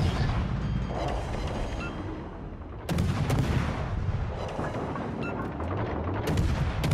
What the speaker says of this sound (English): We're going to try and blind fire this guy.